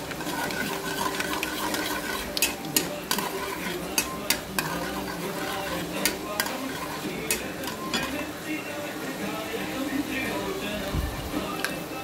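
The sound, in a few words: fenugreek seeds frying and being stirred in a pan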